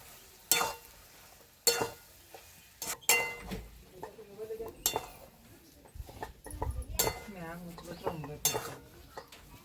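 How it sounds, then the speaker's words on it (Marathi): A ground chana dal batter being stirred in a pan over low heat, with intermittent utensil clinks and scraping against the pan and a faint sizzle, while a person talks between the strokes. "छान असं फिरवून घ्यायचंय."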